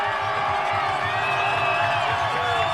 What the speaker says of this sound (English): Triton crowd making noise.